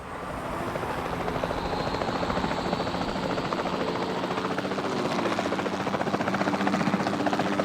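A helicopter in Jurassic World Evolution 2 whirs with a steady rotor drone and dense buzzing chop, constant and fairly loud throughout, with nobody speaking.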